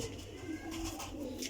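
Rampuri pigeons coo softly in a loft, a low warbling hum of overlapping calls with faint background rustle.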